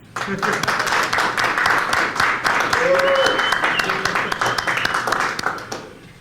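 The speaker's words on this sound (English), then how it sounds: "so give him some applause" Applause from a conference audience swells and carries on for several seconds, dense clapping fairly close, with a few voices murmuring under it before it fades.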